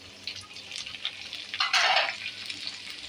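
Chopped onion hits hot oil in a pot for chicken biryani, a steady frying hiss that swells into a louder sizzle midway, then settles.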